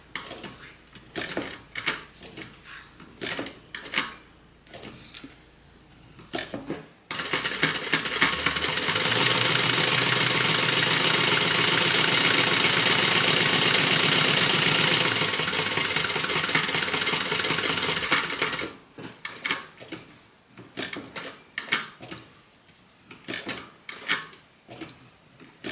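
A sewing machine stitches around the angled corner of a flap on an asymmetrical, Calvin Klein-inspired handbag. It runs in one steady, loud stretch of about eleven seconds, framed by shorter mechanical clicks and handling noises before and after.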